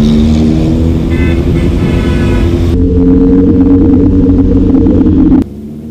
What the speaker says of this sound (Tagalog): Paglampas namin ng Masinag intersection ay may mga big bike na kami nakakasabay.